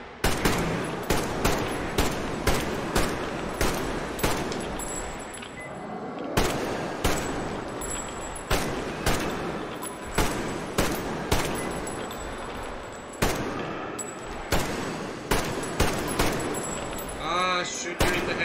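Repeated gunshots in the Metro Exodus video game, sharp single shots firing in an irregular rhythm throughout, loud and close with someone talking over them between shots.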